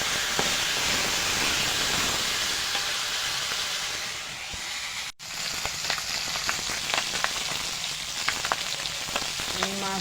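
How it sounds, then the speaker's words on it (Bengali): Catfish pieces fry in hot oil in a pan, a loud continuous crackling sizzle that briefly cuts out mid-way and returns with scattered pops and spits. "এবার মাছটা ভেজে নেব।"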